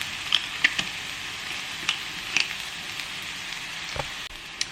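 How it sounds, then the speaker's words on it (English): Red onion and spring onion frying in olive oil in a pan, giving a soft, steady sizzle broken by scattered sharp crackles and pops, with no talking. "I'm just frying up the red onion and the, I can't speak today, the red onion and the spring onion in some olive oil"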